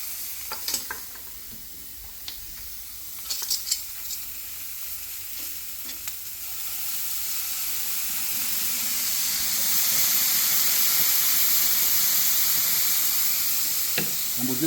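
Broccolini with lemon searing on a hot grill, a steady sizzle and hiss that grows louder and fuller over time, with a few sharp crackles and pops early on.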